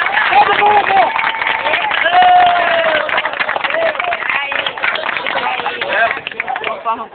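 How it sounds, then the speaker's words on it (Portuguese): Crowd clapping at an outdoor protest over water, rhythmic clapping together with shouting voices and loud speech on top. "Todo mundo batendo palmas!"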